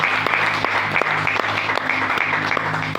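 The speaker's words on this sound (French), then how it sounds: "Acclamons pour la gloire de Dieu." A church congregation at a French-language worship service claps together in a steady, dense, loud burst of rhythmic applause.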